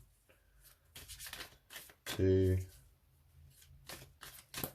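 Tarot cards are shuffled in brief, crisp riffles between quiet spoken words from a nearby voice.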